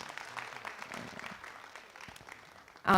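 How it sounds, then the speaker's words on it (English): An audience at a literary festival session applauding: a fairly soft, even patter of many hands clapping that fades slightly, then ends in a sudden loud tonal burst. "I'd like you to give a big round of applause to Ravinder Singh"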